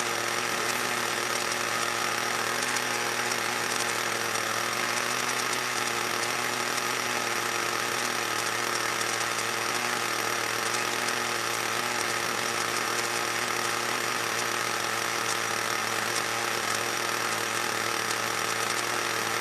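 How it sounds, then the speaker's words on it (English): An exhaust fan runs steadily in a hobby workshop, giving off a continuous, even whirring drone with a mechanical hum that never changes in level. No one speaks over it. "I'm just gonna turn the exhaust fan on."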